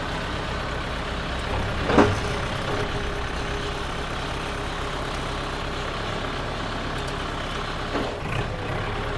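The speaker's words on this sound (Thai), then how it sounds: "อันนี้ผมก็ลองเฉยๆนะครับก็ลอง ฟังเสียงเครื่อง ลองเกียร์ ลองวิ่งอะไรดูเฉยๆนะครับ" A Kubota L5018 tractor's diesel engine runs with a steady, close, broadband rumble during a test drive, broken by a couple of brief knocks.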